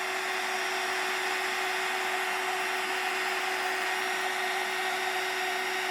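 A heat tool blowing hot air onto a gingerbread man Christmas card, a steady loud whooshing blower with a constant motor whine, close and unbroken throughout with no talk.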